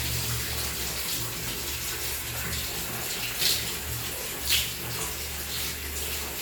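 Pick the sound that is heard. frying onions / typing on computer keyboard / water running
water running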